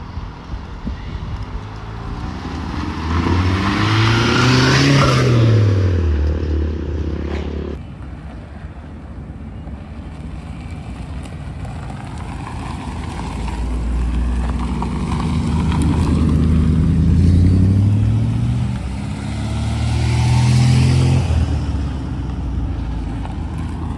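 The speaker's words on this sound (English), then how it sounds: "suppose that's one way to get footage of cars leaving." Cars and trucks drive away from a summer car meet at a rugby club in Droitwich, engines revving and rising in pitch as they pass close by one after another, with wind buffeting the microphone.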